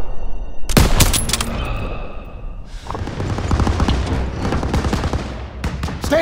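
Machine-gun turrets blaze in Call of Duty: WWII's Stronghold mission. Rapid, loud bursts of automatic gunfire open with a heavy blast, then continue in dense, rattling volleys mixed with battle noise.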